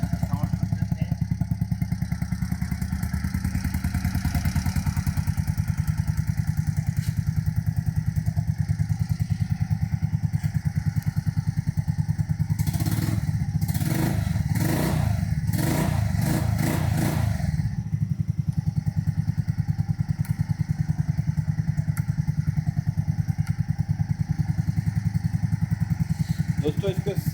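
A restored Honda Super Cub C50 motorcycle engine runs steadily at close range, putting out a continuous low chugging putter with a brief burst of clattering in the middle, while voices talk over it.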